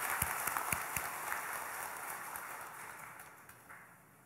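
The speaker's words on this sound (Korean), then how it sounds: "힘차게 쳐주시기 바랍니다." Applause from members at a clan association's general meeting in a large auditorium hall, a broad wash of clapping with a few sharper claps early on, steady and moderately distant, slowly thinning toward the end.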